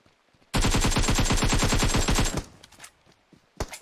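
Automatic gunfire in PUBG Mobile rips out as one loud, rapid burst of about two seconds. A few faint scattered shots follow after a short gap.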